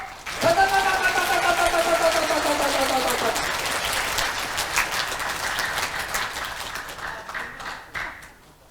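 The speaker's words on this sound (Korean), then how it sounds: "제 말이 맞다면 공산당 박수를 좀 쳐주세요." An audience at a veterans' rally in a National Assembly hall bursts into rhythmic communist-style clapping, loud and close, building as a voice and a tonal sound fade early on, then settling into a steady collective beat.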